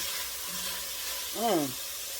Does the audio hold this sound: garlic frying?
yes